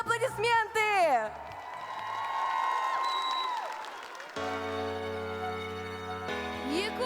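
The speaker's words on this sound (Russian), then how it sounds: "Громкие аплодисменты!" A concert crowd at a children's singing show gala in Yakutsk breaks into about three seconds of loud applause and cheering right after an announcer speaks, then music starts up.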